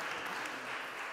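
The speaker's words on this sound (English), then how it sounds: "we're applauding for everything tonight." Audience applause at a Yale a cappella anniversary concert, a brief, dense, steady patter of many hands clapping at moderate volume with no voices over it.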